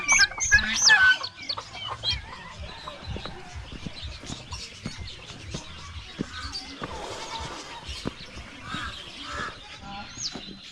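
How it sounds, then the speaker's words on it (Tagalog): A chick left alone outside its coop on a farm gives high peeps, loudest at the start and then faint and intermittent over cluttered outdoor background noise. "May sisiw oh. Hindi ito nalagay sa kulungan."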